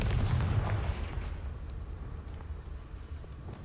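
A Confringo spell explodes in Hogwarts Legacy, a heavy booming blast with deep rumble at the start that rolls off into a crackling, fading tail, alone with no talk.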